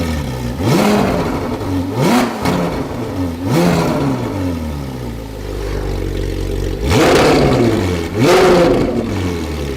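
A Ferrari 458 Spider with an Fi exhaust and headers revs hard in repeated sharp bursts, its high-pitched wail rising and falling loudly and close by with no talking.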